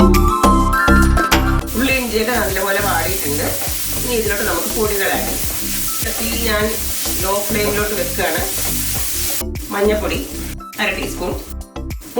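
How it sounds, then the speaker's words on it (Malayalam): Ginger, garlic and green chilli sautéing in a pan as part of an egg curry, a steady loud sizzle with frequent stirring scrapes and small clinks throughout, with a voice talking over it. "ഇഞ്ചി വെളുത്തുള്ളി പച്ചമുളക് ഇത് നല്ലപോലെ ഒന്ന് വാടണം"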